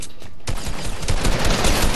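Assault rifle fire in Fortnite, a loud sustained burst of rapid shots erupting after a brief quieter moment and continuing to the end, close and dense.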